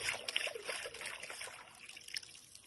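A plaster cast of a big-toed footprint dug up in southeast Queensland, Australia, is rinsed with water, giving a close, steady trickling and splashing sound throughout with no talk.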